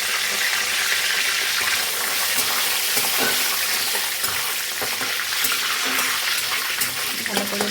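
Cardamom pods, bay leaves and cinnamon sticks hiss and sizzle in hot oil at the start of making fried rice, a loud, steady, close frying crackle with scattered pops and faint stirring clinks throughout.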